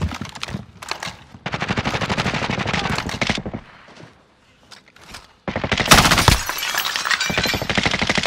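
Video game gunfire in rapid automatic bursts, loud sharp rattling volleys close by, separated by short pauses and one quiet gap, then a final long burst.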